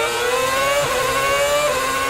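Formula 1 McLaren cars race wheel to wheel, their engines screaming in a loud, continuous high-pitched whine that shifts pitch briefly as a gear changes.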